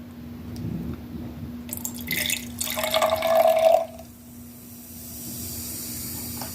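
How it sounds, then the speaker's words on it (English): Homemade apple cider vinegar reacting with baking soda gives a short burst of fizzing and hissing, close and moderately loud, that fades into a quieter background. "my homemade apple cider vinegar mixed with the baking soda is going to do the same reaction."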